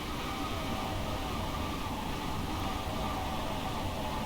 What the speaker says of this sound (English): This is actually quite a nice sound when you pass a train.